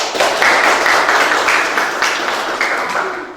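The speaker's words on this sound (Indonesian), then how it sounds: "Kita beri tepuk tangan dulu." Classroom applause rises at once to a dense, steady patter of many hands and holds for about three seconds before thinning out.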